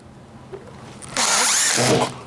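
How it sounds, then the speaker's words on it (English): A power drill drives a screw into drywall in one short, loud whirring burst lasting under a second, preceded by a faint click and then fading out. "now I'm going to put one screw here"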